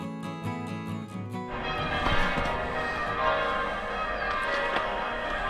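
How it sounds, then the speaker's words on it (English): Church bells ring out in a peal of repeated tolls, the strikes layered and overlapping, with a busier wash of bell tones and outdoor noise building after the first second or so. "If you can hear this over the bell ringing"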